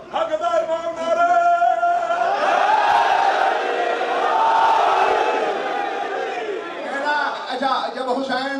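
A majlis congregation on the night of Ashura bursts into loud, sustained collective chanting of religious slogans, many voices rising together and holding steady for several seconds, then breaking into scattered, ragged shouts near the end.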